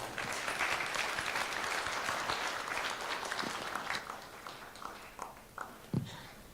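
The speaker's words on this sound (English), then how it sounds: "led by our facilitator, Carol Musyoka, a big round of applause." Applause from a book launch audience, a fairly quiet, distant wash of many hands clapping that thins out toward the end into a few scattered, isolated claps.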